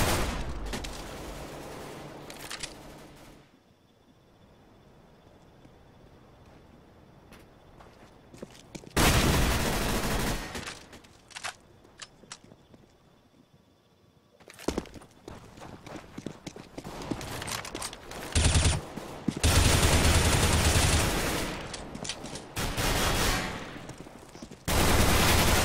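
Automatic pistol gunfire in the video game CS:GO, with loud rapid bursts of shots separated by quieter stretches of in-game background sound.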